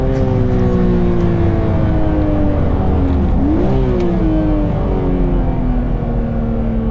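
A BMW Z4 M roadster's S54 straight-six, driven with a manual gearbox, revs loudly from the cabin, the engine note climbing steadily, dipping briefly and climbing again, close and continuous.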